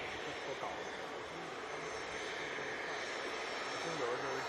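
Airliners taxi at Manchester Airport, a steady, broad jet-engine roar holding at an even level throughout, with faint voices murmuring beneath it.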